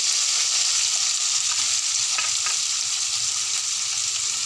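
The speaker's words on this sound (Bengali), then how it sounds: "রসুন কুচি, আদা কুচি সব দিয়ে ভালো করে নাড়াচাড়া করে নিতে হবে।" Chopped garlic and ginger fry with onions in a pan for besan kadhi, a loud, steady, close sizzle with a couple of faint scrapes as they are stirred.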